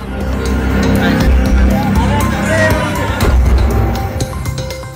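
Large crowd of people gathered at a flooded drain in Bagru, Jaipur during heavy rain, a steady loud hubbub of many voices with vehicle noise mixed in throughout.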